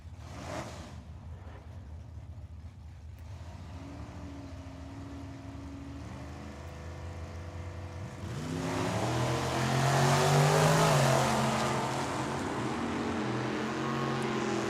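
Drag racing launch of a 2000 Chevrolet S10 at a dragstrip: a steady engine drone with layered harmonics swells into a loud, broadband roar around the launch, then eases slightly while staying strong, without talk.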